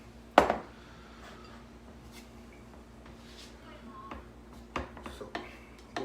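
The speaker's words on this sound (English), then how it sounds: "Slice the avocado." A knife slicing through an avocado on a cutting surface while veggie wraps with collard green and cabbage leaves are being made, giving a few soft, close clicks and taps near the end over low room hum.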